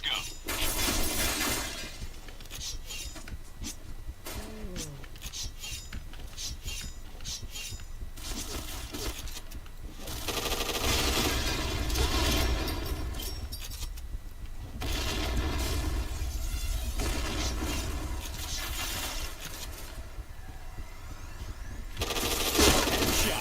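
Gunfire from the Point Blank video game comes in dense, continuous bursts of rapid shots with sharp breaking-glass crashes, loud and sustained, interrupted by short lulls.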